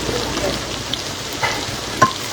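Onion and garlic sauté in a pan, giving a continuous soft sizzle with a few small pops and clinks. The loudest tap comes near the end.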